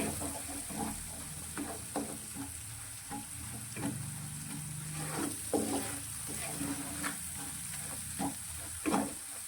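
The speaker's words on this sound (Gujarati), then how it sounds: "તો આપણે લસણ કાચું લીધું છે તે સારી રીતે પાકી જાય ત્યાં સુધી આપણે મસાલાને સાંતળવાનું છે" Spice masala with raw chopped garlic sautéing in a pan for a ringan valor shaak, a steady close sizzle broken by repeated scrapes and knocks of a spoon stirring, with no voices.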